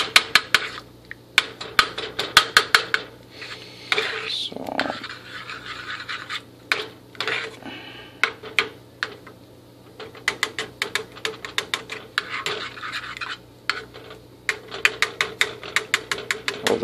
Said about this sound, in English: I'm just chopping it up with my spoon.